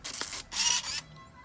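A Samsung Fuzzy Zoom 1050 compact film camera fires its shutter, followed by a short whirring burst from the film advance or zoom motor, close up and fairly quiet.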